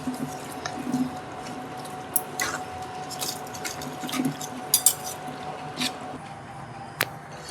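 Soft squishing and wet rustling as leafy greens are mixed by hand with rock salt, faint irregular squelches with occasional light clinks, close up.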